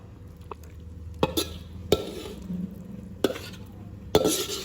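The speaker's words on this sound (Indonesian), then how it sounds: "Kalau ini sudah matang, kita langsung menggoreng chicken citato flowernya." Chicken chitato flowers being stirred and fried in a home wok, with a low steady sizzle under repeated sharp scrapes and clacks of a utensil against the pan.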